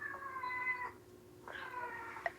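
A cat meows twice near a kitty door, two drawn-out calls with a pause between, close and clear with no talking.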